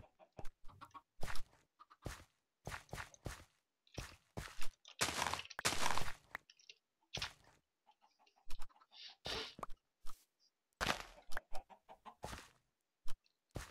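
Minecraft chickens clucking in short repeated bursts, several close together with brief gaps, moderately loud against soft in-game footsteps, with no voices.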